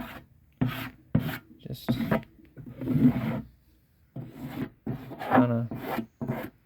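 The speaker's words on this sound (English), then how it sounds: "So you can take your scraper and" A metal scraper rasps gasket material off a 1997 Ford E-150 Econoline's 5.4L V8 in repeated firm strokes, close and fairly loud, between stretches of someone talking.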